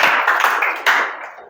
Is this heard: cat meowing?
no